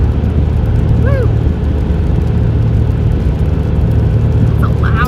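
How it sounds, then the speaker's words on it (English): A loud truck passes very fast during a storm chase in Kansas and Nebraska, a steady roaring engine rumble that holds throughout with a couple of faint whistling tones and no talk. "That's a loud truck."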